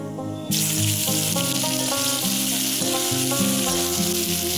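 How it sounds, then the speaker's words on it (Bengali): Chopped onion hits hot oil already tempered with a dry red chilli and kalonji, bursting into a loud, steady sizzle that starts abruptly and carries on over gentle background music. "পেঁয়াজটা আমি লাল লাল করে ভেজে নেব"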